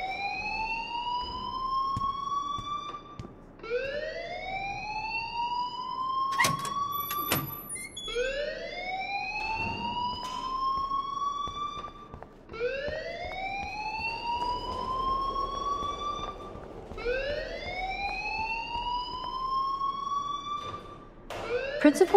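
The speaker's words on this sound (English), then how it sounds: "please turn off that alarm" A school alarm in the video game Life Is Strange Remastered wails loudly and steadily, each rising siren-like sweep repeating about every four to five seconds, with brief clicks and knocks in between.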